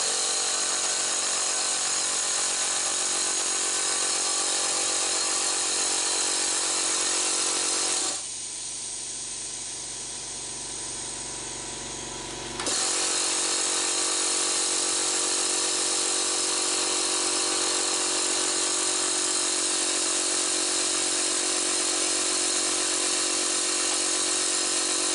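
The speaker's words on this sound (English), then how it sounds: "So I'm still talking over the top of the new compressor." A Hyundai HY7524 air compressor runs with a steady, broad mechanical drone, pausing for a few seconds in the middle before starting up again, loud and close with no talking over it.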